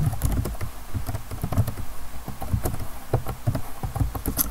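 Rapid, uneven clatter of keys on a computer keyboard as JavaScript code for a Pong game is typed, close and steady throughout with no voices.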